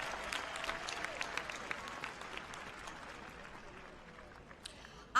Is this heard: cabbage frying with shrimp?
no